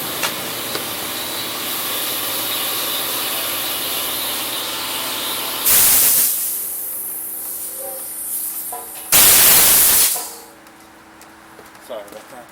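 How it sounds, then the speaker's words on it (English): An air compressor in a workshop where a snow blower's augers are being greased kicks on twice, each burst a loud broadband hiss lasting about a second, rising above steady mechanical background noise. "The air compressor was kicking on."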